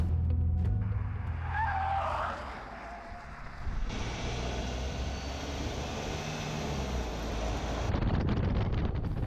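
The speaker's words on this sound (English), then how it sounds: "The new car is going through a performance check at this test track." A new car undergoes a performance check on a test track in Changsha, Hunan, in sultry summer heat, with a steady loud rush of engine, tyres and wind, a brief tyre squeal early on, and a roaring pass lasting several seconds.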